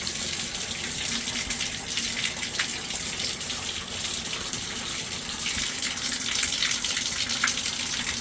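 Hot water gushes steadily from a tap fed by an electric tankless Rheem water heater, a continuous broad rushing stream with no voices, holding at a fairly loud, even level throughout.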